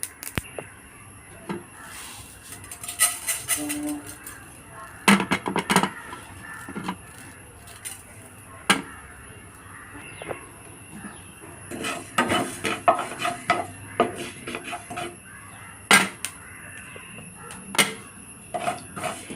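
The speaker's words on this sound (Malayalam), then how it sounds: "ഇനി ഉലുവ വറുത്തെടുക്കാം" Scattered metallic clinks and scrapes of a utensil against a pan while fenugreek seeds roast, irregular and close, with no voices.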